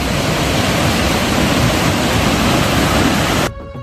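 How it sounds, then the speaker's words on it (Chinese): Water thunders from the opened spillway gates of Guangdong's largest reservoir, Wanlü Lake, on its second release of the year: a loud, steady, broadband roar that drops away abruptly near the end. "松花堡水口今年第2次放水"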